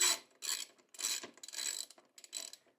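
Ratcheting wrench spinning nuts onto the bolts of an auxiliary platform on a Kove 450 Rally motorcycle, close, dry clicking bursts repeating in short strokes with brief pauses between.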